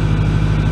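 A 2008 Ford F250 6.4L diesel engine idling after a DPF and EGR delete, a steady deep low rumble held close and loud through a very short stretch with no talk.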